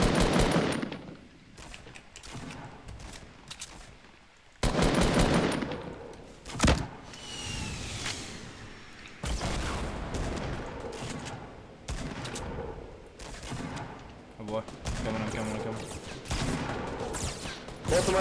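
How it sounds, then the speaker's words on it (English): Rapid automatic gunfire and fusillade bursts from a Fortnite Battle Royale match, loud and repeated throughout with heavy sustained volleys and short gaps, plus occasional thuds. "Keep firing, keep firing."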